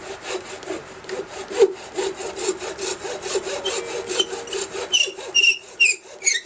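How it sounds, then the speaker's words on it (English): Hand saw cutting through a sinker cypress wood bowl, a steady run of back-and-forth rasping strokes, close and fairly loud, with the last few strokes sharper and more spaced. "So let me saw it off."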